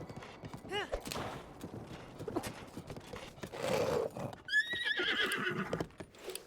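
Horse in Breath of the Wild neighing, with two wavering whinnies, one early and a louder, higher one near the end, over clip-clopping hooves and someone talking in between.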